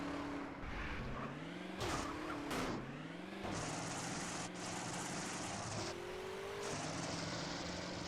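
Car engine in GTA San Andreas revving and shifting pitch as the vehicle drives and turns, loud and continuous, with brief swells and a tire-skid-like burst partway through; no talking.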